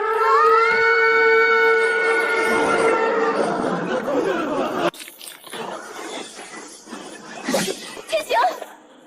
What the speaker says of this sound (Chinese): 给我按死警报喇叭，